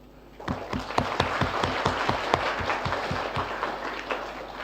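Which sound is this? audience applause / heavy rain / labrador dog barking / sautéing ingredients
audience applause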